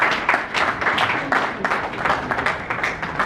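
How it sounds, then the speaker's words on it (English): Steady applause from a crowd at an annual dinner of a Nigerian chartered tax institute's Lagos district society, many hands clapping at once, fairly dense and continuous for a few seconds without voices. "So please can we give him a round of applause?"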